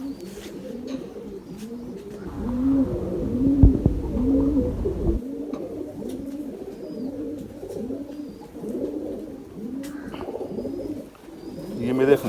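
Pigeons coo repeatedly and rhythmically close by, the soft rolling calls overlapping throughout, with a brief burst of handling noise near the start.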